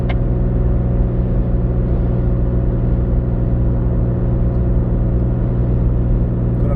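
Engine of a supercharged 2018 Toyota Tacoma pickup towing a load at highway speed, a steady loud droning hum with constant low rumble and no breaks throughout.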